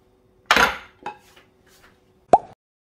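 A cutting board and knife used for trimming beef are washed, giving three separate clattering knocks: a broad loud scrape and clunk, a lighter tap, then a sharp ringing clink near the end, with quiet between.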